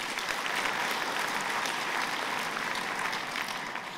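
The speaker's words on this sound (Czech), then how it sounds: "I jim patří potlesk." An audience at a university gala evening keeps up steady, dense applause throughout, with the clapping heard alone and no voices over it.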